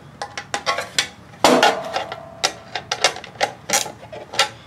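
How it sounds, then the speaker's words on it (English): A ratchet snugging up the screws on a metal skid plate of a 2020-2026 Defender, a rapid series of close, sharp metallic clicks in short bursts, with a louder clank partway through and no voices. "take your Phillips screwdriver, and your ratchet, make sure it's on tighten"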